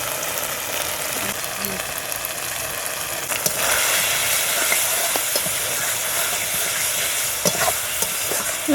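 Spices sautéing in a pan with chopped tomato, salt and turmeric, a steady close sizzle and hiss with occasional stirring scrapes throughout.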